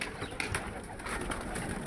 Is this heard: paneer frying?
no